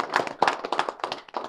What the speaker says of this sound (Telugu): ఒకసారి చప్పట్ల ద్వారా మీరు అభినందన తెలియజేయాలి